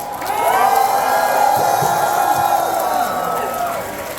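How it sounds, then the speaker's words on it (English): A large crowd at an Anime Expo 2025 panel cheers and whoops loudly for several seconds after a live performance, a dense roar of voices that swells and then begins to fade. "Give them a round of applause."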